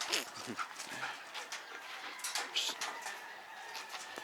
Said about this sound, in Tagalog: Ito yung ating mga Belgian Malinois na makukulit